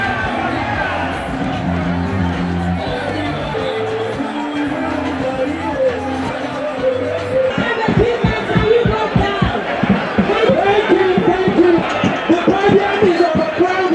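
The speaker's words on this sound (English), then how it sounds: "he pulled off a large crowd in that particular state" A large crowd at a presidential campaign rally in Borno State, Nigeria, roars and chants rhythmically, massed voices swelling into loud pulsing cheers after an opening stretch of music and hubbub.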